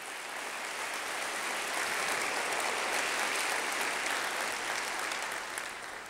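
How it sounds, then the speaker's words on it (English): A large audience at a State of the City address claps steadily in a thick, even wash of applause that holds for several seconds and then tapers slightly, with no speech over it. "So give them a round of applause for that great work."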